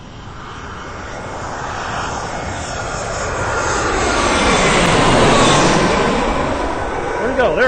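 An Airbus A319 jet airliner passes at Reagan National Airport, its engine roar swelling steadily to a loud peak and then easing slightly as it goes by.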